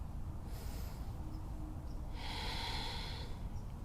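During an outdoor yoga session, someone takes two slow, deep breaths, soft airy rushes heard close against quiet background noise.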